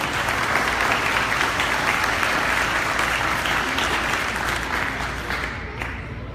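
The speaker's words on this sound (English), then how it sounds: "So please give him a round of applause and thank you for coming." Dense audience applause at a community drug awareness presentation, loud steady clapping from a full room that gradually tapers off near the end.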